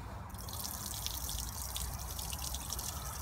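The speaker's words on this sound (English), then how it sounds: "As you open it, that will open the trap and the dirty water will just run out from the side." Dirty water running out from the side of a slide-operated valve at the bottom of an aircon generator tank, a steady close trickle and splash that continues without pause and without talking.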